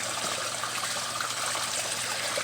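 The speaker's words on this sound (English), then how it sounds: "Water's still circulating." Water circulating through a backyard pond with hornwort growing in it makes a steady, close, continuous rushing trickle with no talk.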